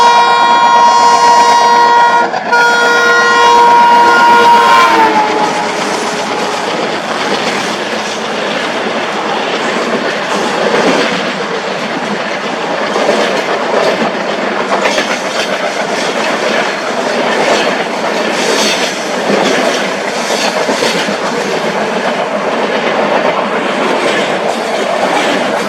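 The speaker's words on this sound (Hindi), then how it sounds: "साथ में बैकग्राउंड में जो ट्रेन चल रही है यह है 12-371 एक पहली, जो कि ट्विन हेडेड एल्को से चल रही है।" Train 12371, hauled by twin-headed ALCO diesel locomotives, passes close by with a loud horn blast at the start, then a steady rumble and rhythmic clickety-clack of wheels over rail joints throughout.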